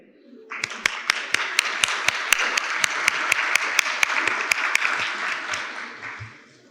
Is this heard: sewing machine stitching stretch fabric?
no